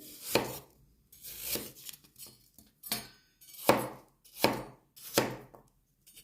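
A knife chops apple into small cubes on a board for mini apple, hazelnut and cinnamon cakes, with about six or seven distinct sharp thuds at an uneven pace, close and clear, no talking.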